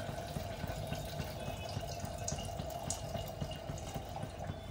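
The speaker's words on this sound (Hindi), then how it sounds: "उसके पानी डाल दूंगी।" Water poured over strained boiled tea leaves in a kitchen while making chole, a steady broadband splash and trickle running continuously at moderate level with no talk.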